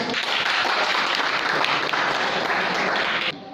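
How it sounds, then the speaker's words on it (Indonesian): Sustained applause from a classroom of students for a student group: dense, steady clapping from many hands at fairly close range, holding evenly for several seconds before cutting off abruptly at the end. "sekarang aplaus dulu untuk kelompok 3"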